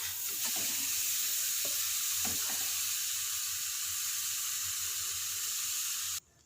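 Carrots for gajar halwa cooking in a pot, giving a steady hissing sizzle with a few soft stirring scrapes early on, continuous at moderate level before stopping abruptly near the end.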